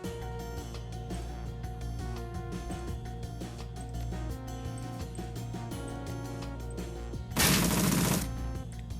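A short, loud burst of gunfire erupts in the Shadowrun: Dragonfall video game, about a second of dense crackling over continuous background game music.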